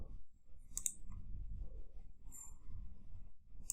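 A computer mouse gives a few faint, sharp clicks, a quick pair near the start and single clicks later, over a quiet low hum in an indoor room.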